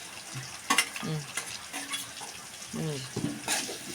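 Carrot, green chili, curry leaves and ginger fry in a pan with a soft sizzle and a few spatula scrapes, fairly faint, while a voice speaks intermittently over it.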